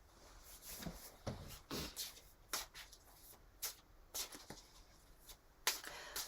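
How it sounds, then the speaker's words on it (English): Tarot cards being shuffled by hand, a series of short papery riffles and soft slaps in bursts over several seconds, close and fairly quiet with no talking. "Shuffle."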